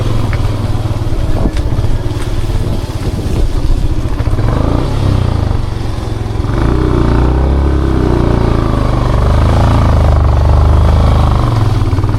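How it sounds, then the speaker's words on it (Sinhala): A motorcycle climbs uphill on the way to Narangala mountain in Sri Lanka, its engine droning loud and steady close by and rising slightly in strain partway through, with a little clatter. "ඔයාලත් බයික් එකේ යනවා නම් මෙතනින් උඩට දාන්න."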